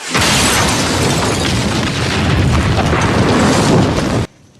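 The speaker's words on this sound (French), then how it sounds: "juste avant que Daryl n'explose l'entièreté du groupe des motards" A loud, sustained explosion roars across four seconds as a group of bikers is blown up in The Walking Dead, a dense, booming blast that cuts off abruptly into quiet.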